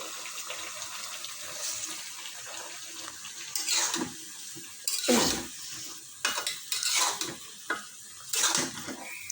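Small pieces of green banana are tipped into a simmering chicken and potato curry and stirred. Several bursts of wet, scraping stirring rise over a low, bubbling sizzle, and no one talks.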